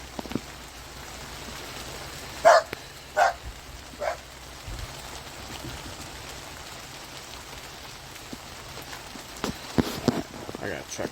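A few dogs bark during a rainstorm in Lake County, Michigan, a handful of short barks spaced out against steady rain hiss, moderately near, with more scattered barks late.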